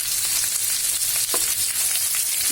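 Boiled yardlong beans fry with browned onion and garlic in a pan, giving a steady, loud, hissing sizzle throughout with a few light stirring clicks.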